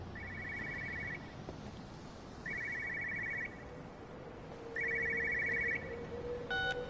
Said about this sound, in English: I should definitely say phone, as that is a noise that a phone makes